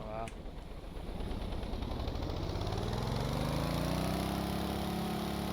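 Plane engine in the Stormworks video game held at full throttle, a steady droning roar that rises in pitch over several seconds, with someone talking over it.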